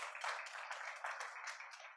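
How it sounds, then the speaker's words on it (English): A church audience applauds for Jennifer Kaufman at a sermon, a faint, steady round of clapping from a crowd at some distance lasting a couple of seconds. "Why don't we give her a round of applause, everybody?"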